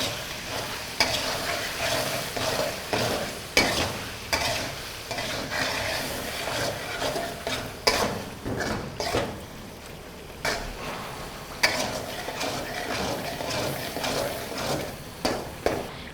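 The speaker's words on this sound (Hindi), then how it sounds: "अब मैं टमाटर को इसमें मिक्स कर लूँगी।" Tomatoes being stirred into boneless chicken karahi frying in a pan, with repeated scraping strokes of the spoon over a continuous sizzle, close and fairly loud throughout.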